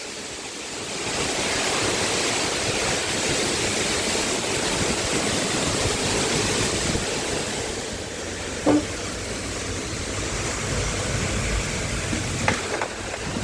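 Super typhoon wind and rain storm roaring as a steady, loud broadband wash that never lets up, with a couple of brief sharper knocks near the end and no talking.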